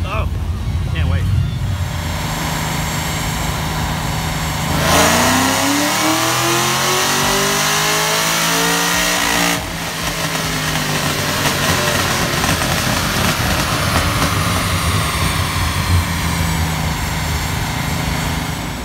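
A B-Wagon car revs hard on a dyno at a drag-racing and car show event, its engine loud and close as the pitch climbs through sustained pulls, with voices faintly under the roar.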